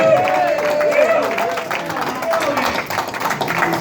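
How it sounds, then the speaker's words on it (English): A room applauds at a post-fight boxing press conference, a brief round of clapping mixed with crowd murmur and a voice speaking over it. "Round of applause for"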